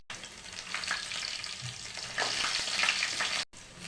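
Garlic dropped into hot oil with mustard seeds, cumin, fenugreek and dried chilies fries with a bright hiss and crackle that grows louder midway, then cuts off briefly near the end.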